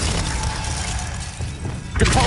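Glacius ice spell cast in Hogwarts Legacy, a rumbling magical whoosh ending in a sharp icy shatter and crackle burst near the close.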